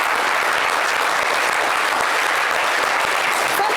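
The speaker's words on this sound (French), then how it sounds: "Ça s'applaudit." Studio audience applause at a French-language evening talk show, dense and steady clapping at full volume for the whole stretch with no speech over it.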